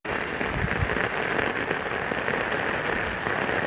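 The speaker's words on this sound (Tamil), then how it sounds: "இப்போது இங்கேயும் மழை வந்து விட்டது நல்லா" Steady rain falls outdoors near Thottiyam, Tiruchirappalli, a dense, continuous hiss of drops hitting surfaces at close range, unbroken for the whole stretch with no voices.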